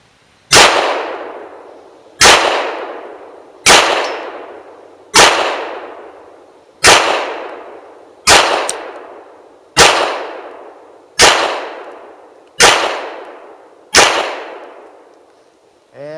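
Hi-Point JHP .45 ACP pistol firing ten rounds outdoors, sharp loud single shots evenly spaced about one and a half seconds apart, each cracking then decaying quickly, with no talking.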